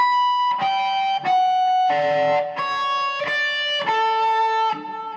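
An electric guitar plays a slow riff without harmonics, sustained ringing notes with effects, each note changing pitch in a steady stepwise line, played alone.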